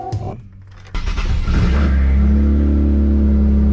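A twin-turbo Nissan 350Z with a titanium exhaust revs up after a brief clatter, swelling into a loud, close, sustained roaring drone that holds steady to the end.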